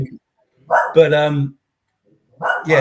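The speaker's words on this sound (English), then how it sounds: "Excuse the dog" A dog gives a couple of loud, close barks separated by a pause, with voiced tonal yelps that sit near the range of speech.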